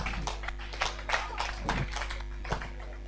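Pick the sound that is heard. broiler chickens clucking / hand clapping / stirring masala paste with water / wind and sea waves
hand clapping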